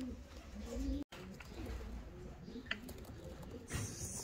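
Large domestic pigeons coo in a loft. The low, rolling calls repeat steadily and fairly faintly throughout, with a brief dropout early on and scattered soft rustles.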